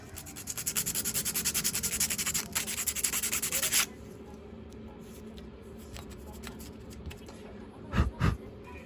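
A cloth rubs briskly in quick, even strokes over the inside reflector of a Ford Cortina Mk3 2000E headlamp, cleaning out decades of grime, then stops, leaving quiet handling noise and two soft knocks near the end.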